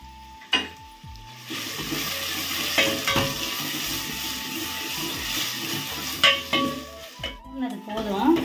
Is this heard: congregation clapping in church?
no